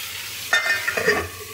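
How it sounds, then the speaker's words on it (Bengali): A spatula stirs and fries vegetables for shukto in a pan. There are two brief scraping, sizzling strokes over quiet kitchen background, with no talking. "খুন্তি দিয়ে ভালো করে একসাথে কষে নিচ্ছি।"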